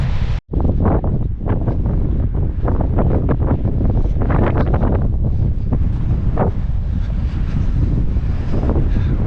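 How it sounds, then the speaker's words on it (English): Strong wind roars and buffets the microphone on a coastal footpath between Perranporth and Newquay, a loud, steady rush with gusty swells and one brief dropout near the start. "Wind is starting to pick up."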